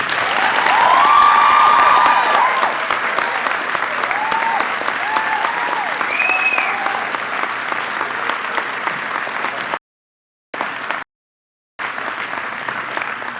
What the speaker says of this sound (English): Could we give Ellen another round of applause?